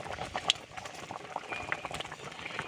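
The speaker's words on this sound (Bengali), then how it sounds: "ডালটা সেদ্ধ হওয়ার মুখে।" Masoor lentil dal boils in a pot, bubbling and popping steadily at close range with small irregular plops, quiet and without any talk.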